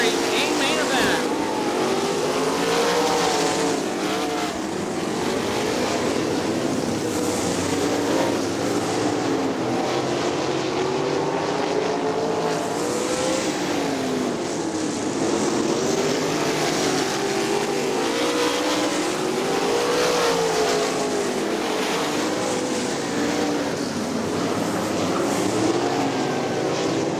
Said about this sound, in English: Tim Norman trying to close the gap with the closing laps here at Crystal Motor Speedway in our Auto Value Super Sprint Series A main event